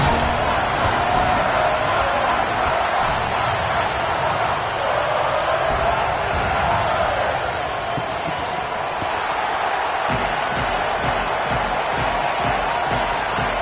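Steady, dense roar of a college football stadium crowd in EA Sports College Football, with a BYU game about to kick off at elevation; broad, unbroken din with swells throughout.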